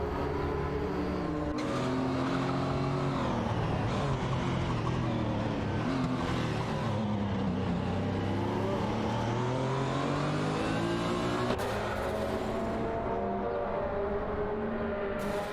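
Race cars, including a Mercedes-Benz CLK 500 and a Honda Integra Type R '95, roar through a video-game race, engines rising and falling in pitch as they rev, shift and accelerate, loud and continuous with no voices.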